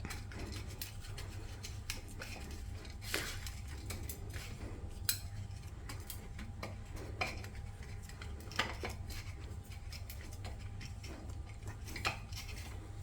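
Leftover chapati dough is mixed in a bowl, with quiet, steady clinking and scraping of a utensil against the bowl and occasional sharper taps.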